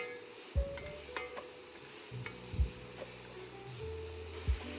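Celery and carrots fry in a pot with a constant soft sizzle, punctuated by a few low thuds and scrapes as a utensil stirs the vegetables against the pot.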